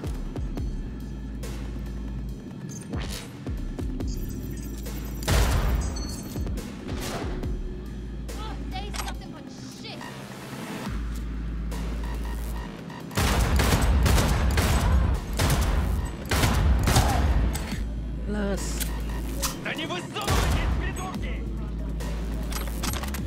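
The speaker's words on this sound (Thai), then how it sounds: "มันต้องค่อยๆยิงอย่างเงี้ยแหละทุกคนต้องอดทนกับการยิงปืนปาระเบิด" Gunfire and grenade blasts in Cyberpunk 2077 crackle in repeated bursts and bangs throughout, mixed with game noise and rumble, while someone talks over much of the combat.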